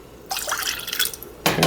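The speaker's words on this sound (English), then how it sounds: "So just pour a little bit of water here." Water poured into a bowl while mixing a sauce for lemon pepper wings: a steady, close trickle for about a second, then a short, louder splash as the pour ends.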